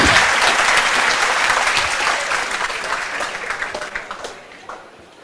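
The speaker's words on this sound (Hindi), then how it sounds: "सर के लिए एक बार जोरदार तालियां।" An audience gives loud, sustained applause for a speaker at a talk on preparing for a competitive exam. The dense clapping tapers off into scattered individual claps at the end.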